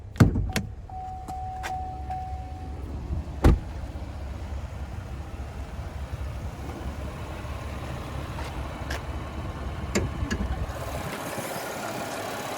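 A 2021 GMC Acadia Denali with a naturally aspirated 3.6 liter V6 idles as a low, steady rumble, opened by a few sharp clicks and thumps, then hums evenly before fading out near the end.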